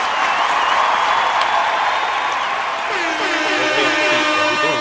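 Sustained audience applause from a crowd, a loud continuous wash of clapping with some cheering; a voice starts talking over it in the latter half.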